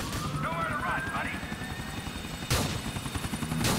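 Helicopter flying in the video game GTA 4, a steady whirring rotor drone running throughout with a brief louder burst partway through, mixed with other game sounds.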